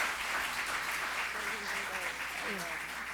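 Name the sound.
audience applause for a district councilor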